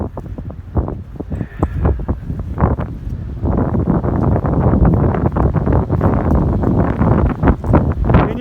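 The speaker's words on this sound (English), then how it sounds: "And you can hear the wind." Strong, very cold wind roars and buffets the microphone in heavy, rumbling gusts that swell louder partway through, with no talking, on a snowy trail in the Smokies.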